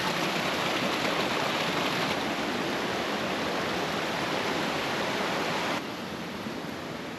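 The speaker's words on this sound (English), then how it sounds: "Check out this beautiful waterfall right here." A small mountain waterfall on the trail to Chasm Lake in Rocky Mountain National Park rushes in a dense, continuous roar heard close by, dipping slightly in level near the end, with no voices.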